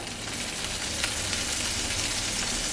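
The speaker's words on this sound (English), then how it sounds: "there's that sizzle I wanted to hear." Steady, continuous sizzling of salmon croquettes frying in a pan, a dense crackling hiss that holds at an even level throughout with no talking.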